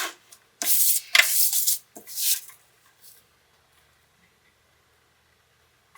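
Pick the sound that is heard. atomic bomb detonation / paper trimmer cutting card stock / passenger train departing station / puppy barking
paper trimmer cutting card stock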